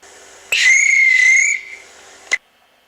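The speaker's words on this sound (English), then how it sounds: "The guard blew his whistle and waved his green flag." A shrill, steady whistle blast holds for about a second, then tails off, followed by a short sharp chirp; no voices.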